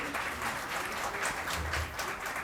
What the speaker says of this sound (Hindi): तालियों में कंजूसी तो करते ही हैं।